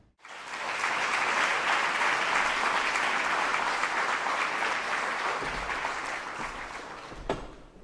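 Sustained applause from an audience at a Saluki Athletics Hall of Fame ceremony, a loud, dense wash of clapping that holds steady for several seconds before tapering near the end.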